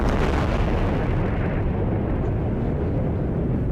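Explosions from Israeli bombardment of Gaza form a loud, continuous deep roar and rumble, heaviest at the start and holding steady to the end, with no voices present.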